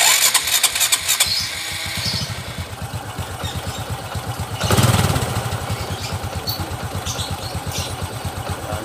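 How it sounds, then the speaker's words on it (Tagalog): Honda XRM 110 motorcycle engine with a worn, knocking crankshaft bearing, idling up close with a rapid, irregular mechanical clatter and brief revving surges, loud and steady throughout. "Malagutok yung bearing. Pakinggan natin."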